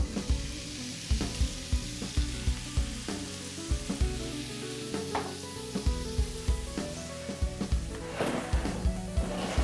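Garlic sizzles in olive oil in a hot front pan, a close, steady frying crackle with repeated scraping stirs and knocks of a utensil against the pan, no voices.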